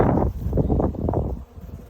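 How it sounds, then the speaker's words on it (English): Gusty wind buffets the microphone outdoors beside beehives, a steady low rumble that dips briefly near the end. "And man, it's windy."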